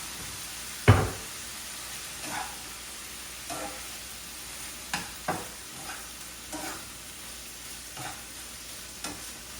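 Stir-fried rice sizzling in a pan as soy sauce goes in, a steady soft frying hiss punctuated by a sharp clank and then spaced scraping stirs, close and moderately quiet.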